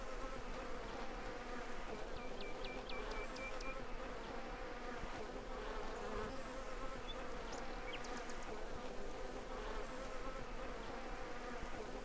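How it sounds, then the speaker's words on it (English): Bees hum around beehives on a farm in the video game Farmers Dynasty, a constant dense buzzing drone that runs throughout at even loudness, with a few faint high chirps scattered over it and no talking. "Oh, wait, I got a bee's hives somewhere."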